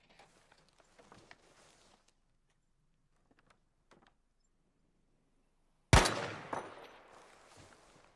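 A single loud burst of assault rifle fire from Battlefield V Firestorm rings out at range, tailing off into a reverberant echo after a stretch of near silence and faint clicks.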